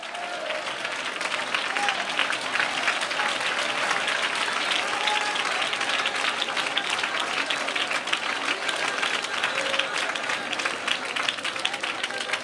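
A church congregation applauds at a pastor's call, dense, sustained clapping from a large crowd that fills the space steadily without a break, with a few voices mixed faintly into the wash.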